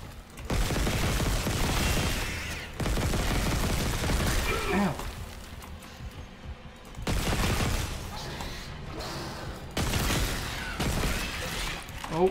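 Gunfire in the Dead Space remake, bursts of rapid weapon shots in several bouts separated by quieter gaps, close and loud, with talking mixed in.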